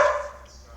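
A dog gives a short, faint bark or yip in the background, a single brief sound that fades quickly.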